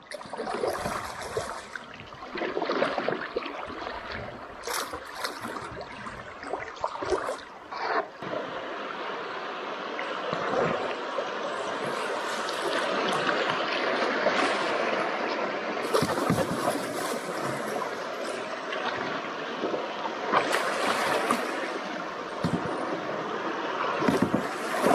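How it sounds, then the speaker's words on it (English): A canoe runs a set of rapids on the Matabitchuan River, with continuous rushing whitewater, splashes, and paddle strokes and knocks against the hull close by. "Here we go, second set of rapids."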